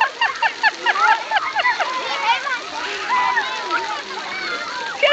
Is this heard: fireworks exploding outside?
no